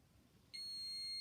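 A homemade tamper alarm sets off after a brief quiet stretch, holding a loud, continuous high-pitched electronic tone to the end.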